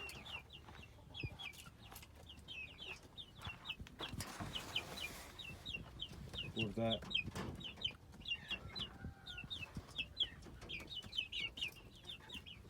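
Chickens and Indian chicks cluck and chirp continuously nearby in a coop in Taşköprü, Kastamonu, many small birds calling at once, with a brief murmur of a voice and some rustling in the middle.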